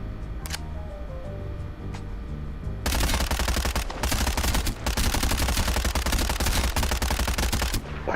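Rapid gunfire in a VR video game, a loud, sustained burst of automatic shots that starts abruptly and keeps pounding with only brief breaks.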